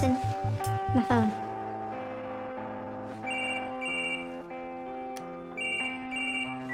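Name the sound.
mobile phone ringing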